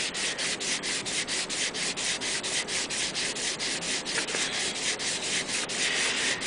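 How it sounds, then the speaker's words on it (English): Steady, rhythmic rubbing of sandpaper as a wooden logo inlay is sanded flat, with even back-and-forth strokes repeating quickly and continuously up close, no voices. "this one should get me a perfect flat sand"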